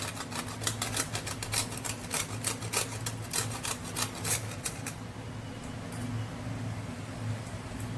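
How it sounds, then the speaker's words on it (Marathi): Whole nutmeg rasped on a small grater for kharvas, a steamed colostrum-milk pudding, giving a close, quick run of scratchy strokes for about five seconds before the scraping stops and only a low steady hum remains. "जरासं जायफळ किसून घालायचं आहे पाव चमचा"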